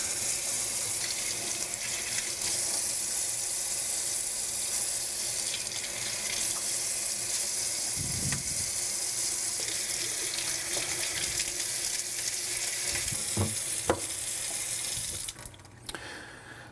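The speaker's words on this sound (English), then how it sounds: "now we'll just run this under a stream of water to wash the seeds off" Tap water runs steadily through a handheld strainer full of tomato seeds as they are rinsed, a close, continuous splashing with a few small knocks near the end.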